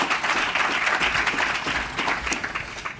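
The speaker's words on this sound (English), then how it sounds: "I want you all to give David a big round of applause as we welcome him to the stage" An audience at a food summit keynote applauds to welcome a speaker to the stage, dense sustained clapping from a large crowd, fairly close and even for the whole stretch.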